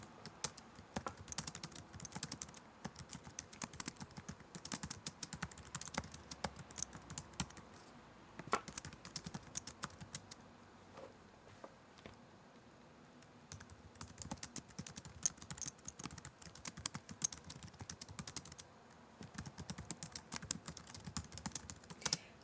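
Steady typing on a computer keyboard while a message is written, a continuous patter of close, light key clicks running in uneven bursts with a brief pause midway, no voices.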